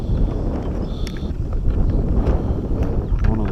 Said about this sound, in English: It's windy, so we're going to go with this one.